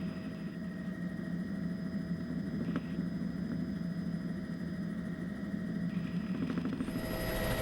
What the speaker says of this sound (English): A morning helicopter flight takes off from the hillside adjacent to El Mirador.